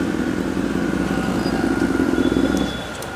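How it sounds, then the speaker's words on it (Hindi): Honda CBR motorcycle fitted with a new exhaust, idling close by with a steady throbbing burble that holds even, then softens slightly near the end. "स्टिल इसका साउंड वही है, इन्होंने एग्जॉस्ट नया डाल के रखा है, तो you can see sounds great right now"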